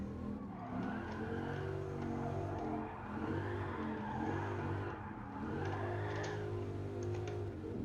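A Dodge Viper GTS '13 in a time attack game revs hard while drifting, the engine note rising and falling in loud continuous waves mixed with squealing tires, with no voices.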